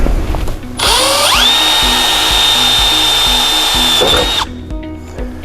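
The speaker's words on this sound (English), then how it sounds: "the first thing I'm going to do is drill a hole here." A power drill spins up with a rising whine, holds a loud steady high-pitched drone for about three seconds drilling a hole for a gable fan mount, then winds down and stops.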